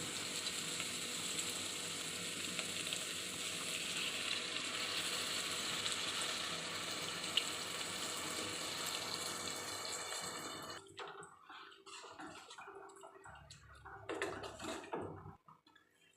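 Squeezed soaked tamarind water pours into a frying pan of bitter gourd curry, making a long, continuous, faint watery splash and sizzle that stops abruptly, followed by a few quiet clinks and stirring sounds.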